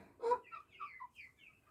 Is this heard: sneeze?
no